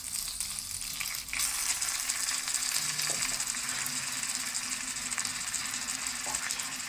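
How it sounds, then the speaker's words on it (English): Loud, constant sizzling of a miniature patty frying in hot oil in tiny cookware, a dense crackling hiss heard up close with no talking. "Let's hope we hear that sizzle."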